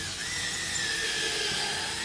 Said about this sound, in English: now we want to drill the lower holes in